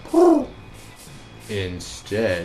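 A person imitates a pigeon with three short cooing, hooting vocal bursts, the first loudest, separated by brief pauses.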